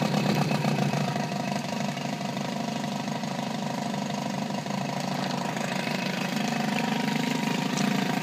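An outboard motor idles on a 1991 Lund Angler 1600 SC fishing boat, a steady close mid-pitched running drone that holds evenly throughout with no speech.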